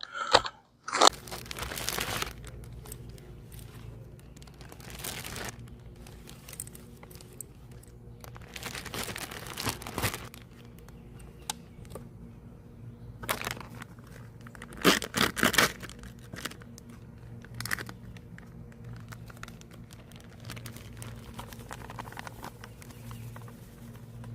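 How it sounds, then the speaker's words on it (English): Buttermilk-marinated catfish pieces being coated with Louisiana classic fish fry in a Ziploc bag, heard as close plastic crinkling, crunchy rustling and scattered pattering bursts, some louder jolts among quieter handling. "I'm going to drop them in a Ziploc bag with Louisiana classic fish fry"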